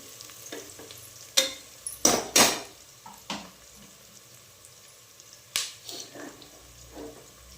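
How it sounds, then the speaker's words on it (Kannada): A pan frying ingredients for tomato bath, a low sizzle broken by several sharp clatters and scrapes of a spoon stirring against the pan, close and without talk. "ನೋಡಿ ಫ್ರೆಂಡ್ಸ್, ಆಗಲೇ ಫ್ರೈ ಆಗ್ತಾ ಇದೆ ನೋಡಿ."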